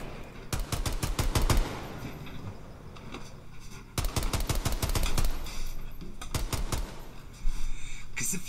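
Video game gunfire in loud, rapid bursts of automatic shots, three separate volleys each lasting a second or more with short pauses between them.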